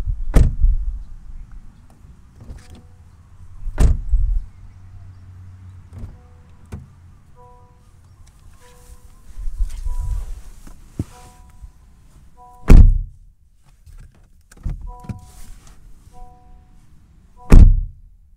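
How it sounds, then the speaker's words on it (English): Several solid 2024 Honda Civic LX door thunks spaced seconds apart, each a loud low slam, with quieter mechanical clicks and a soft whir between them. "these doors have such a solid and snug door close"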